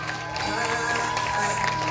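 Audience applause and cheering for a girl's quinceañera waltz, a brief continuous wash of clapping over music and crowd noise.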